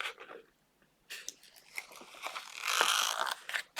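An adhesive sheet peels off craft cards in a quiet room as soft crackling, tearing bursts, a short rip, a pause, then a longer rasping peel with scattered small clicks.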